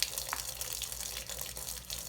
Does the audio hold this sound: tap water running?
yes